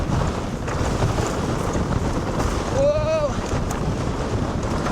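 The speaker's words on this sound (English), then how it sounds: "Oh, the wind just pushed that bike so much." Strong wind buffets the microphone on a ride aboard a new e-bike, a steady roar with a gust peaking midway, while a voice exclaims briefly.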